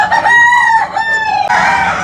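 A native country rooster kept in a separate pen among laying hens crows once, loud and close, a long bright call with a short break and a rising tail.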